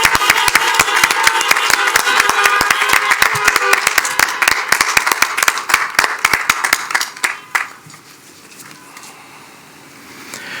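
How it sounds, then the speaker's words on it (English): People at an outdoor drive-in college commencement clap for several seconds, crisp and scattered from nearby, and the applause thins out to quiet open-air ambience by the end. "let's have a round of applause"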